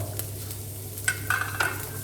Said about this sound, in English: Mix it up a little and fry until the egg is firm.